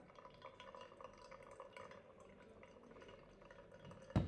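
Water from a kettle poured in one steady, unbroken stream into a V60 coffee dripper brewing Kenyan coffee, a soft, faint trickle with a sharp knock near the end.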